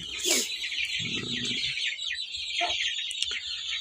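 Hens and newly hatched chicks in a coop give soft clucks and high, thin peeping chirps that come and go in scattered bursts, fairly close by.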